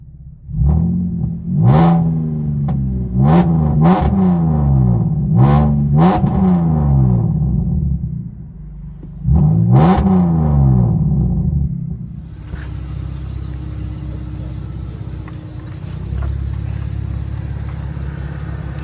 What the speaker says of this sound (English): Chevy Camaro V6. True dual straight pipe.